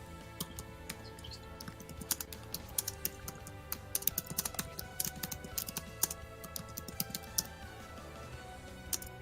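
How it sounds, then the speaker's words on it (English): Rapid clicking keystrokes on a computer keyboard, fairly close and steady, with bursts of quicker typing and brief pauses, playing alone over a low background hum. "Who's typing? That'd be me."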